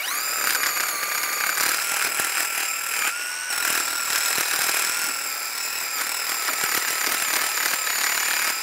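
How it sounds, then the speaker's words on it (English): A wire brush scrubs rust from the front brake hub of a 2007-2013 Chevy Silverado 1500 in steady, rapid, harsh scraping strokes, close and loud throughout. "Just use a wire brush."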